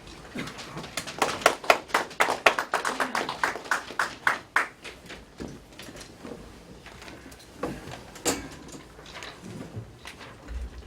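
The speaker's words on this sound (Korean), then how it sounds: "우리 박수로 환영합시다." An audience at a church association election meeting claps to welcome a pastor to the podium, a burst of scattered hand claps that thins out after a few seconds into a few sparse claps and room noise.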